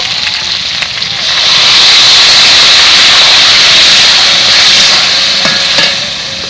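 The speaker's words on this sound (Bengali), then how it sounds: "এবার আমি সিদ্ধ করে রাখা ডাল দিয়ে দেবো" Boiled lentils go into a sizzling pan of fried fish-head spice mix for Bengali musur dal, and the loud steady hiss and crackle of frying swells and then eases as they are stirred in.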